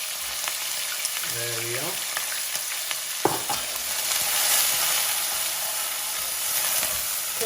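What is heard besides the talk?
chopped onions frying in oil in a pan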